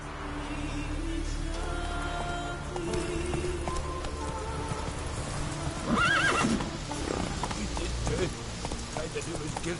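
Geralt's horse Roach in The Witcher 3 gives a loud whinny amid clip-clopping hooves, with rain falling and game music and voices underneath.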